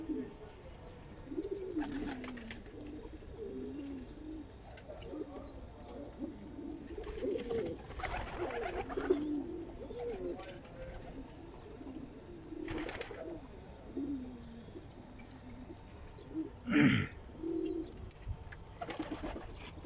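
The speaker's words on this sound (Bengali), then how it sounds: "বিভিন্ন ধরনের কবুতর আর কি, বিভিন্ন জাতের কবুতর" Pigeons of several breeds cooing in a loft, soft low throaty coos repeating in overlapping phrases throughout, with occasional chirps and a brief flutter, close and moderately quiet.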